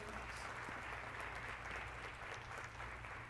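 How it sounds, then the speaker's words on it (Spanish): A church congregation claps loudly and steadily for a few seconds during a service, a dense, continuous wash of applause with no speech. "Que no le damos un fuerte aplauso a nuestro Salvador."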